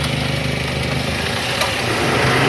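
Car engine running steadily at about 2000 rpm under electrical load during an alternator and regulator charging-system test, a continuous mid-pitched hum with no talk over it.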